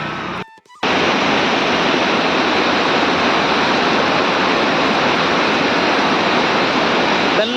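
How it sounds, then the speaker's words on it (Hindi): The Bhagirathi river, flowing down from Gangotri between mountains, gives off a loud, steady rushing roar that starts after a brief quieter moment and continues unbroken. "कल कल बहती गंगा मैया जो कि यहाँ पर भागीरथी नदी के नाम से जानी जाती हैं।"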